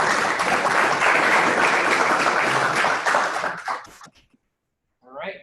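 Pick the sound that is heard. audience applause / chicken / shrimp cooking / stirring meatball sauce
audience applause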